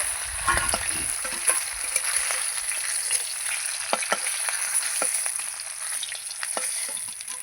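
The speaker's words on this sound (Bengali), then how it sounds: "যে মাছটা ভাজা হয়ে গেছে আমি তুলে নেব" Fish fries in hot oil in a pan with a steady, close sizzle and scattered sharp crackles and pops throughout, and no one speaks.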